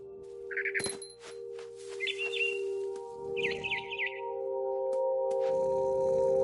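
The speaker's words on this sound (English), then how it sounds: "Then I heard chirping outside my window. It was a barn swallow going back to her nest." Small bird chirps in the video game What Remains, a barn swallow calling in brief bright bursts over a steady humming game soundtrack, with chimes and clangs scattered between.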